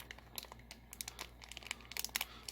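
A plastic packet of cleaning brushes is handled and unwrapped up close, giving a quick run of soft crinkles and crackles that grow denser toward the end, faint and alone.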